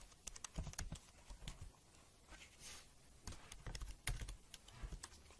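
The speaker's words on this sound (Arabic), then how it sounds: "نقوم بكتابة الكابتشا." Keys tapped on a computer keyboard while entering a captcha, quick irregular clicks in short bursts with pauses, close and fairly quiet, no talking.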